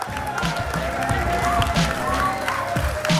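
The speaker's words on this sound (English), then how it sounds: "It's just really amazing to hear them cheer for me here." A tournament crowd at a live Clash Royale event in Helsinki cheers and applauds a champion, a continuous wash of clapping and voices filling the room throughout.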